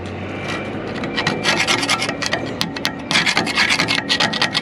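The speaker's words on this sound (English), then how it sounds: "we'll come in behind here with my fancy dancy carbide scraper" A carbide scraper rasping against hardened concrete inside a Putzmeister concrete pump hopper, quick repeated scrapes in an uneven rhythm, close and gritty, with no talk.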